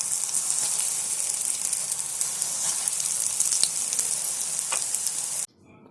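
Potato fasting patties shallow frying in a little oil, a steady close hiss and sizzle with faint crackles, cutting off abruptly at the end.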